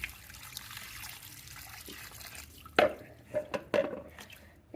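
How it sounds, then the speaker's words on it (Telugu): Water poured over food being washed in a vessel, several times over: a low background wash, then a run of short splashy pours and drips after a quiet moment, close and without talk. "ఒక 5-6 సార్లు మనం వాటర్ బాగా పోసుకుంటూ కడగాలి"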